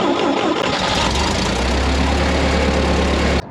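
A rear-mounted engine turns over and settles into a loud, steady running drone, close and alone, cutting off abruptly at the end.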